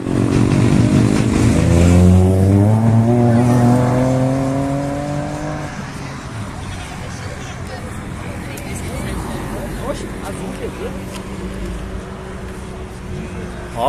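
An engine with four cylinders but only two firing drones loudly and rises in pitch for about five seconds, then falls to a rougher, quieter idle that carries on beneath a busy outdoor background by a lake.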